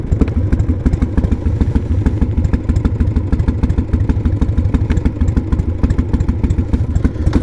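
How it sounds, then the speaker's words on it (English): A 1988 Harley Davidson Heritage Softail with a sidecar runs at a steady idle, its big engine giving a loud, close, evenly pulsing low thump with mechanical clatter on top and no talking. "Hopefully we'll get the sound of the bike better."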